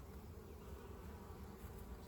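Dense, steady buzzing of many bees at an opened beehive, a continuous close swarm drone with no pauses.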